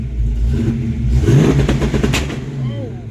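A Ford Mustang engine roars loudly at wide-open throttle, bouncing repeatedly off the rev limiter in a stuttering, pulsing drone, with a brief voice underneath.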